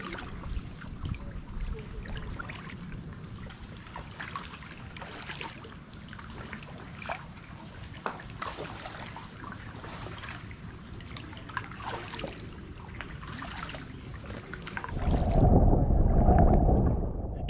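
A kayak is paddled across calm water, with soft, repeated paddle dips and trickling splashes at a low level, then a louder rumbling surge of wind or water near the end.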